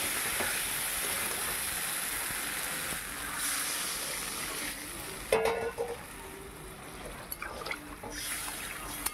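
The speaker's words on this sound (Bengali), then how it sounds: "এবার হচ্ছে জল ঢেলে দিচ্ছি।" Spice-fried potatoes sizzle steadily in a pan, then water poured in brings a louder burst of bubbling hiss and sputter partway through, settling back to a softer simmer, with no talk.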